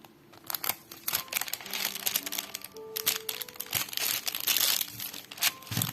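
Paper crinkling and tape handling as clear adhesive tape is stuck onto parchment paper for a paper craft, with irregular close rustles, crackles and short rips that come and go.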